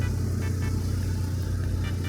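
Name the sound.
car engine running, Toyota Tamaraw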